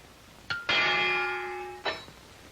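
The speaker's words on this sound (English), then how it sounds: "And here's the bell." A single clang of a boxing ring bell opens a round in a 1942 fight broadcast, a sharp metallic strike that rings on steadily for over a second before a second hit cuts it off.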